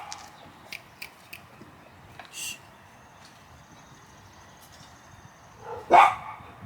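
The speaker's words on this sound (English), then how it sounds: "She whisper barked." A dog gives a few soft, breathy whisper-barks, quiet and brief, near a Cub Cadet 1170 lawnmower under repair. Faint small taps and scuffs come before a last, slightly louder huffed bark.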